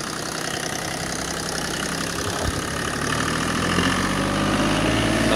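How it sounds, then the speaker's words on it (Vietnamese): Three-cylinder engine of an Iseki 287 tractor idling steadily nearby, a continuous low rumble with knocking texture and slight variation, no voices. "Động cơ Isuzu 287 là động cơ 3 máy nha"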